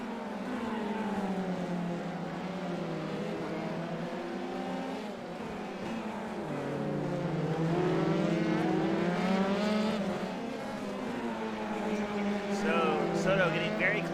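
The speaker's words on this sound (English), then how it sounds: "Gutierrez leading King and Soto. That'll be the battle" Formula 3 race cars circle the Long Beach circuit in a racing game league, their engines whining and sweeping up and down through gear changes at steady volume beneath continuous race commentary.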